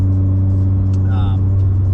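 Steady, loud engine drone from a 550whp Subaru STI with a stock-location FP green turbo while driving, a constant low rumble heard from inside the car with no change in pitch.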